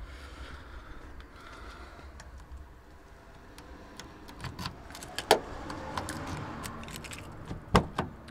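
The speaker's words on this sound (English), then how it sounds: "let's go and open the car and try" A key works the door lock of a 40kWh Nissan Leaf with a flat 12-volt battery, giving a series of sharp close clicks and metallic jangles that grow louder toward the end, with no talk.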